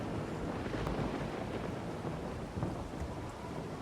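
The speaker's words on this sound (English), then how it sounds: "It's raining, but we're gonna have to do within the rain." Steady rain with rumbling thunder in the Farming Simulator 25 video game, set on a Brazil map, a dense continuous downpour hiss with low rolling booms and no speech.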